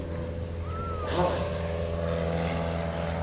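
A propeller airplane flies at the 2017 Greenwood Lake Airshow, giving a steady, moderately distant engine drone with a faint passing whine and low hum.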